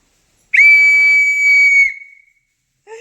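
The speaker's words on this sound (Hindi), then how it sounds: "और ये मिली है पापा की सीटी, जो पापा बजाते थे" A father's old whistle gets a single loud, steady blast lasting more than a second, then fades. A brief faint tone follows after a short pause.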